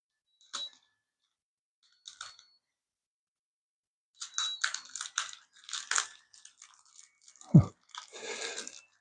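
Intermittent crinkling and rustling of plastic bags being unwrapped from LM78L05 voltage regulators, a few short bursts then a denser stretch of handling noise with one low thump, close by.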